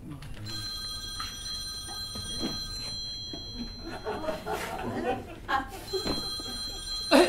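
A telephone bell rings in two bursts, a bright metallic trill, while people talk over and between the rings.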